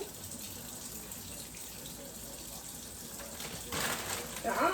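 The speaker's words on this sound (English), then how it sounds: "Now I always give these bags a good rinse" Tap water runs steadily into a sink as salad or spinach bags are rinsed, a constant hiss with a brighter splash swelling near the end.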